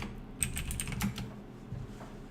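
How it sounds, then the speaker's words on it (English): Keys clatter on a computer keyboard during a search typed in photo-editing software, a short burst of quick, close taps followed by a few scattered keystrokes. "let's type in just a yearbook photo,"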